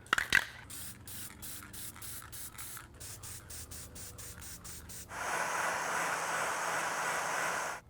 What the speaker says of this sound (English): Got some gloss varnish here to spray on it to seal it